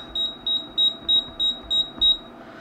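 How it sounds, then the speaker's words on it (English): A McHale 868 square bale wrapper control unit beeps as its buttons are tested, seven short, evenly spaced high-pitched tones, close and clear over faint background noise. "let's just check that the beep."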